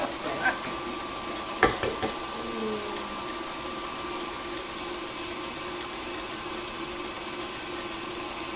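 An electric whisk whips meringue in a steady, continuous whirring drone, close and moderately loud, with a few brief clinks near the start.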